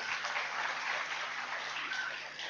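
Audience applause for teachers at a school function, a continuous even patter of many hands clapping, faint and distant, lasting the whole moment.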